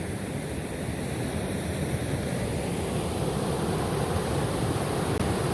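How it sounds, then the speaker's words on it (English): Rushing snowmelt water pours at an Oregon waterfall, a steady, loud broadband roar that holds without pause for several seconds, with no talking. "Look at all that fresh snow water."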